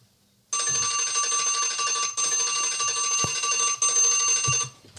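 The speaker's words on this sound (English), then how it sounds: "I'm going to leave the alarm in there." A loud electronic alarm clock rings continuously for several seconds, a steady high-pitched trill with brief breaks, alone and close.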